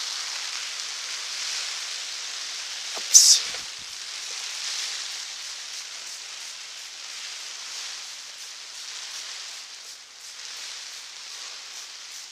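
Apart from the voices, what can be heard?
heavy rain and wind outdoors in a garden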